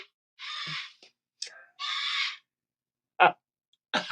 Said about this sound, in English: I have an umbrella cockatoo visiting tonight. Can you tell?